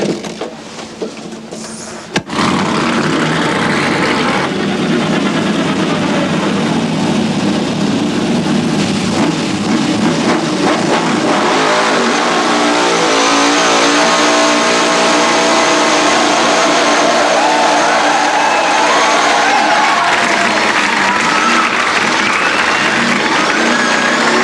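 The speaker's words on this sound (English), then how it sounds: "No, it's just a V6 Buick with an extra turbocharger." A turbocharged V6 Buick Grand National on a drag run, its engine roaring loud and steady with a rising pitch, mixed with crowd noise that sounds like applause.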